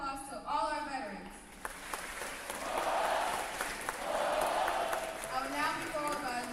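A crowd at a school Veterans Day assembly applauds in a steady, moderately loud wash of clapping and cheering, with voices heard speaking over it at the start and end.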